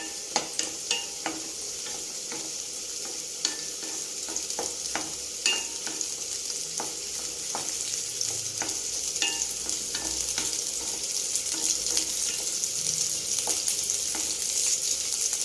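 Curry masala frying in a pan, a constant close sizzle overlaid with frequent ticking stir strokes, growing slightly louder toward the end, with no speech.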